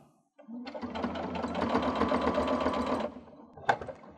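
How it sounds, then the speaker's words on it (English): A sewing machine stitches through quilt binding fabric, a close, steady, fast mechanical whirr that starts abruptly, runs for about two and a half seconds, then stops, followed by a single sharp click. "I'm going to sew to that point."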